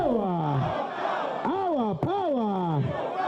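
A crowd of NUP supporters chanting together at a political rally, loud rising and falling voices in unison, with a brief dip in the middle before the chant surges again.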